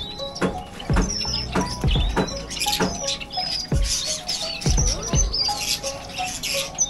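Many caged birds chirp and call at once at a bird market in Qatar, a busy layered chorus of sharp tweets and trills with scattered louder calls, steady throughout and close by, with no talking.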